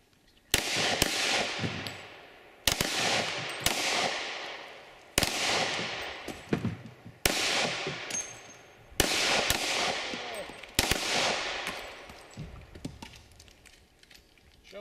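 Gunshots from shooters firing on a shooting range: six loud, sharp cracks spaced about two seconds apart, each trailing off in a long ringing echo, with no talking.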